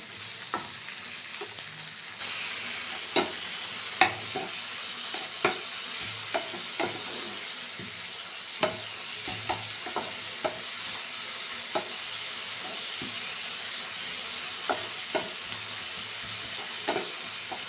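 Onion and tomato fry steadily in a pan, a continuous soft sizzle broken by sharp spatula scrapes and taps against the metal at irregular intervals, close by with no one talking.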